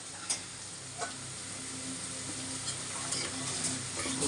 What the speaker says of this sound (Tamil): கலக்கி விடுங்க ஆண்டி கொஞ்சம்.